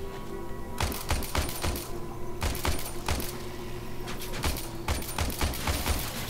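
Rapid bursts of futuristic weapon fire from a sci-fi shooter game, repeated sharp cracks in several volleys over a steady low background hum, loud and close.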